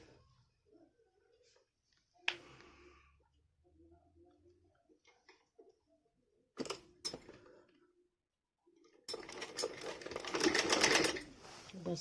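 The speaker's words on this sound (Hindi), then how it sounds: "यहाँ उल्टी साइड से ये इस तरह से सिलाई मारेंगे, इस तरह से लगाएंगे सिलाई" Sewing machine running a fine seam on a dhoti salwar, with a few scattered clicks and handling knocks, then a loud, rapid close burst of stitching near the end.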